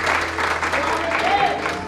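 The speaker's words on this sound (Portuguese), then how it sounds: "Aplauda o nome dele." A church congregation applauds during a sermon at an Assemblies of God service in Paris, a short burst of clapping with a voice speaking over it.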